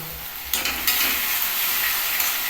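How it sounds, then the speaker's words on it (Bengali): Panch phoron, a five-spice mix, tempers in hot oil for a Bengali dal, making a bright continuous sizzle that jumps louder after a half-second of quieter frying and then holds steady and close, with no voices. "এখানে আমি পাঁচফোড়নটাকে পোড়ন দিয়ে দিয়েছি"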